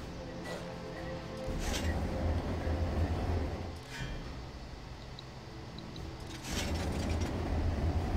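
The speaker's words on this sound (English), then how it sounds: "it must be this furnace that I'm using," A furnace runs in the video game RuneScape, giving off a steady mechanical rumble with a grinding, rattling texture that swells louder in two longer surges, with no voices over it.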